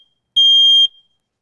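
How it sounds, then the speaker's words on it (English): A household smoke alarm gives one loud, piercing electronic beep lasting about half a second, alone in otherwise silent surroundings. "The common, everyday smoke alarm."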